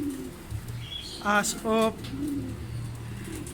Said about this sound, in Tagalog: Marami-rami na yung ibon nating dumating.